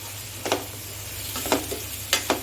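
Onions fry with salt in a pan under a low, steady sizzle, punctuated by a few sharp scraping stirs of a spatula at irregular intervals.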